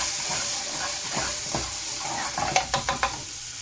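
Whole spices, bay leaf, a small piece of cinnamon stick and one clove, crackle in hot oil as they are stirred, a steady sizzle broken by a few sharp, close pops near the end.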